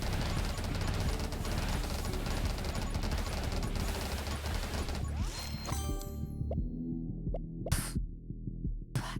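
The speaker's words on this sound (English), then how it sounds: "make sure you're always shooting" Continuous rapid gunfire in the top-down survival shooter 20 Minutes Till Dawn, a dense, steady stream of shots with a throbbing pulse underneath that cuts off abruptly near the end, leaving a few isolated hits and clicks.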